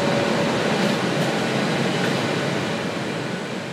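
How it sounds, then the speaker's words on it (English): Loud, steady broadband roar of a data center floor, dense fan and air-handling noise filling the space continuously with no speech. "now we're gonna go onto the data center floor. It may be a little loud out here"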